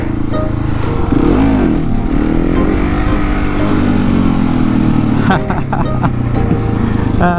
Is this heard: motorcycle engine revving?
yes